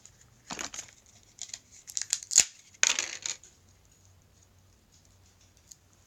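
Packaging for a MASQD blush brush is pulled open in a few sharp crinkling, tearing bursts and clicks, close and fairly quiet, separated by short pauses.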